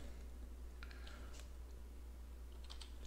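Computer keyboard typing at a desk while working in photo-editing software, a few short bursts of keystrokes spaced out over a steady low background hum, quiet and close.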